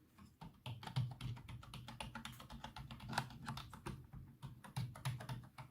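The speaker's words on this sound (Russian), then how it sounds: "Вот самые громкие у нас Shift" Keys on a computer keyboard clatter in quick, irregular typing, with the heavier Shift and space bar presses standing out as louder thocks among quieter key clicks, close and alone.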